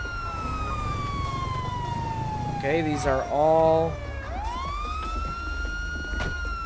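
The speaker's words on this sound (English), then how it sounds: "Let's turn our siren off." A police car siren wails in the video game GTA V, a long descending tone, then a burst of yelping warbles and a rising wail, close and loud with someone talking briefly over it.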